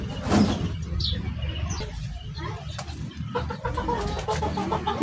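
A hen clucks on a backyard chicken farm during a sale, heard over a thick, constant wash of outdoor noise from the flock and surroundings, with one louder call near the start.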